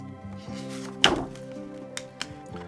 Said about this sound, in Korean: 두레박은 묵직한 소리를 내며 하늘로 올라갔어요